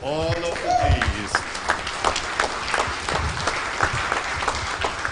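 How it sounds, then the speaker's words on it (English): Audience applause fills an auditorium at the close of a WordCamp conference, dense steady clapping sustained throughout, with a brief voice or tonal sound near the start. "Can we have a round of applause to all of you, please?"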